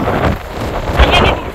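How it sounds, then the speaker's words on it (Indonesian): Strong storm wind buffets the microphone at Masjidil Haram in Mecca at night, a steady loud roar with gusty swells and rumble throughout the clip. "Ini jalan pun kayak ketarik angin."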